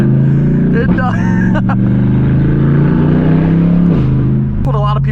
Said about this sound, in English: It does truly sound like a race car.